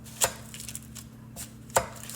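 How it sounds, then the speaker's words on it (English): A knife cuts a stick of unsalted butter into pieces on a board, giving two crisp, close chopping taps about a second and a half apart over a quiet background. "I've got a whole stick of butter, and I'm gonna cut it in pieces."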